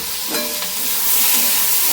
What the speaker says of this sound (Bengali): আর এখন হচ্ছে আলু ভাজা,